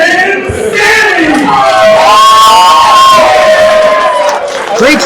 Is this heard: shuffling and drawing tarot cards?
no